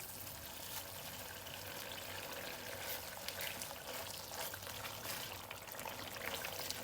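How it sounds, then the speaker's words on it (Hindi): Ghee pours into a pan of chicken karahi with a soft, continuous trickling hiss, faint and close, with no voices over it. "अब हम इसमें घी डाल देंगे, ये देखें घी।"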